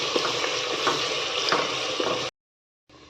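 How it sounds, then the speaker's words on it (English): Onions with ginger garlic paste frying in a biryani pot while stirred, a dense close sizzle with small scraping taps, cutting to silence briefly before resuming. "Stir it well until it turns brown"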